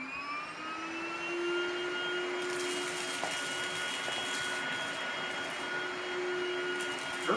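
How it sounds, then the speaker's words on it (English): A Lindhaus Valzer L-ion HEPA Digital Pro cordless upright vacuum cleaner runs with a steady, fairly quiet motor whine and airflow hiss, holding an even level with a few faint bumps throughout. "Very quiet vacuum."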